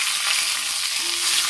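Slit green chilies frying in a little oil in a pan, a close, loud, continuous crackling sizzle with no voices.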